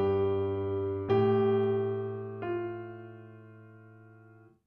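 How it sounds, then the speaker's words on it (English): A held chord sounds, then two fresh attacks change it in a 7-6 suspension, each ringing steadily before the last slowly decays to silence. "The 7 6 suspension sounds like this."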